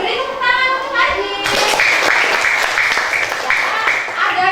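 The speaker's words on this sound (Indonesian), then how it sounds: "Beri tepuk tangan untuk Haji." Schoolchildren in a classroom clap for a classmate. After a brief voice, a loud, close burst of hand clapping starts and keeps going to the end.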